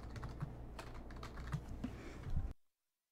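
Fast typing on a computer keyboard to clear chat during a Twitch poker stream: a close, steady patter of keystrokes that grows busier toward the end and then stops abruptly, with no talk.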